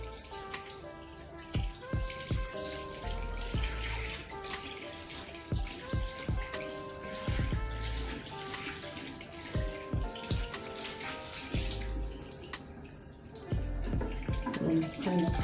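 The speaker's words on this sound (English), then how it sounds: "Rinse off your nail brush. And then rinse off your hands." Tap water runs steadily into a sink as hands and a nail brush are rinsed, a close, continuous splashing stream with irregular knocks and clatters of movement.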